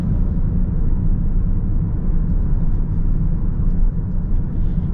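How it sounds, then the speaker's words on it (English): Steady low road roar and tire hum inside a 2025 Toyota Prius XLE AWD cruising, a continuous broadband rumble with no talking. "Do get a bit of tire noise"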